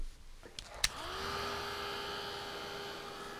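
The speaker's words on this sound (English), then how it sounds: "I like this little dryer because it does not move things around too much." A small handheld dryer blows over a mixed media painting, switching on after a couple of clicks and settling into a steady, moderately loud whirring hum that holds to the end.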